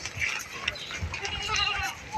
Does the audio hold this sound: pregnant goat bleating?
yes